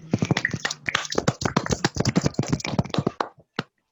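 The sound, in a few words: classroom applause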